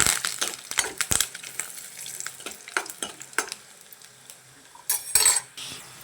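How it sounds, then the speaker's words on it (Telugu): Semiya upma tempering ingredients fry in a pan while being stirred, a steady low sizzle broken by repeated sharp scrapes and clinks of a spoon against the metal, with a louder burst of clatter near the end. "తిప్పుదాం, వేగాలి ఇది."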